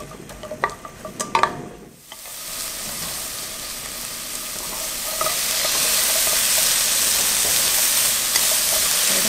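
Onions stir-fried in perilla oil in a pan, a few clinks and scrapes first, then a steady close sizzle that swells and holds as the onion fries.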